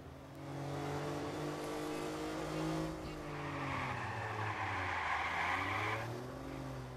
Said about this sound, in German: Ah, die Karre geht aber schon richtig ab, muss man sagen.